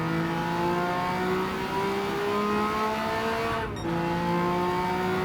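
In Gran Turismo 7, a bored-out car engine with enlarged displacement revs up steadily toward about 10,000 RPM, its pitch climbing continuously, then dipping briefly at a gear change before climbing again, loud and close.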